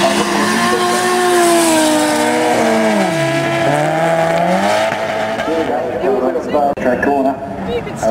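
Race cars with 900 to 1300 cc engines drift through a track corner at a speed festival, loud engine tones rising and falling with gear changes and a sliding pitch dip as a car passes, under talk.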